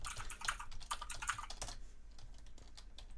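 Rapid keystrokes on a computer keyboard during a Minecraft Skywars game, a dense burst of clicky typing for about a second and a half, then tapering into scattered lighter taps over a steady background hum.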